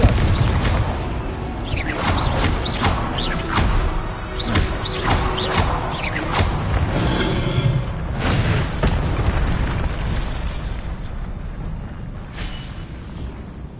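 The Confringo explosive spell blasts in Hogwarts Legacy, loud rumbling booms and crackling bursts follow each other over a dense, sustained roar of game combat noise, with no voices.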